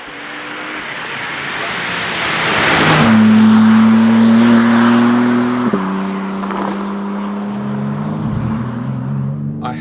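A BMW M4 CSL launches hard, its engine surging loud and near and climbing in pitch, then a quick gear change and a second strong pull as it keeps accelerating.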